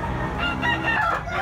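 A big-sized Kelso bloodline gamecock rooster crows nearby, one short, loud, strained call.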